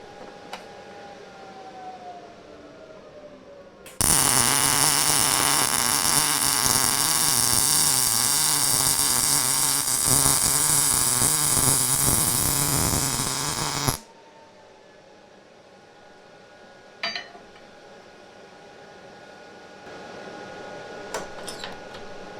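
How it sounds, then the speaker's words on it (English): A Miller 220 multiprocess AC/DC welder runs a MIG bead, giving a loud, steady crackling buzz for about ten seconds that starts and stops abruptly, framed by quiet room tone and a few faint clicks. "So if I want to finish up the MIG bead"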